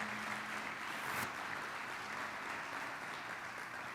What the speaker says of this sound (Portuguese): Dá um aplauso à menina dos olhos de Deus.